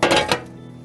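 A metal pizza oven door or turning mechanism on a Coyote Duomo outdoor pizza oven, heard as a loud metallic clatter and clank, then a second bang as it shuts, with a ringing tail fading quickly.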